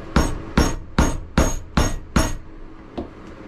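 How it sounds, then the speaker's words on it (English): Six sharp, evenly spaced hammer strikes drive a metal stitching iron through leather for a flashlight holder, loud and close, followed by two faint lighter taps. "I'm going to line up my stitching iron right here and go ahead and punch them holes."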